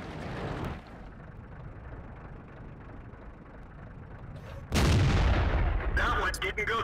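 World of Tanks gameplay with a StuG III's cannon firing: a deep, booming blast opens the moment, then a second loud, heavy shot roars in near the end over a low rumbling battlefield background.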